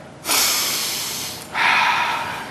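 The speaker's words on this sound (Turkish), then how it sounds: "Şimdi biz nefes alalım hep beraber." Two long, deep inhalations in a row, a broad airy rush of breath drawn in, the second slightly brighter, with no talking.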